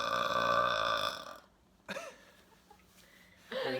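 One long, loud, close burp rumbles out for over a second, followed by quiet with a couple of brief throaty sounds and another short burst at the end.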